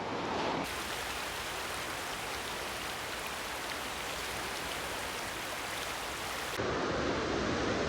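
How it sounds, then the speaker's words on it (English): Heavy rain pouring at a lakeside fishing spot in the Lake District, a dense, steady hiss of drops drumming on surfaces, close and continuous with no one speaking. "it is raining like raining gets now"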